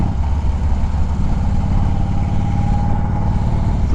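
A vehicle engine rumbles low and loud as it decelerates, a steady close-up drone with a faint crackle running through it.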